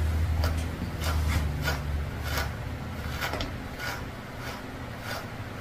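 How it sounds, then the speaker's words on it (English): A slicker brush works through the fluffy head fur of a Bichon-Poodle mix, giving repeated close, soft raspy strokes in an even rhythm over a low hum, with no talking. "I gotta brush out this big old fluff on top of her head. I'm gonna use my slicker brush."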